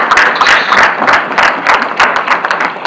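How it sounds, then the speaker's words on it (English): An audience claps in steady applause at a youth conference, loud and continuous, with no talking over it. "Please give a round of applause as you close to your seat."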